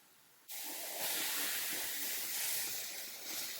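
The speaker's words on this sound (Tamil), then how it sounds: "கொதி வரட்டும் தண்ணி கொதிக்குது" A steady, loud broadband hiss that starts abruptly and continues unbroken, like water rolling at a boil in a pan with steam rushing off it.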